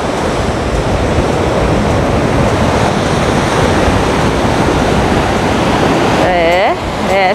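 Rough, storm-swollen sea waves crashing on Guaiúba beach in Guarujá, a loud continuous roaring surf mixed with wind buffeting the microphone, and a voice briefly heard near the end.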